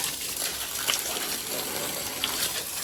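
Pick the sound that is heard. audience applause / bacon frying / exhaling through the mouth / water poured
water poured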